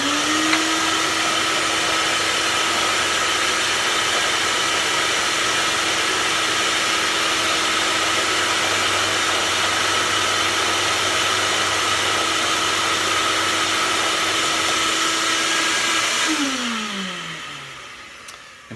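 A shop vacuum hose clamped beside a cigar box guitar headstock being shaped roars with a steady, loud, broadband suction hiss and a constant motor tone for about sixteen seconds, then spins down as the motor is switched off.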